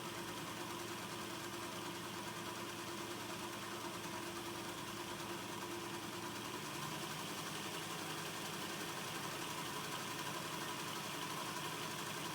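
A Hornby Class 50 model locomotive's small electric motor and gears run steadily on a freshly oiled drive, giving a constant, even whirring hum with a faint tinge of extra noise and no talking.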